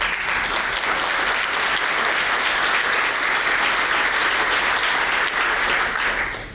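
An audience at a school ribbon-cutting ceremony applauds for the teachers, a dense, loud, sustained clapping that fills the room evenly before tapering slightly at the end.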